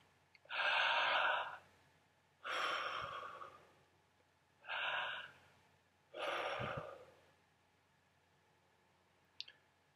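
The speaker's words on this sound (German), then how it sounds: "Das machen sie, indem sie atmen." Four slow, deliberate breaths, each a loud airy rush lasting about a second, spaced evenly with quiet pauses between them, close and alone as a breathing demonstration.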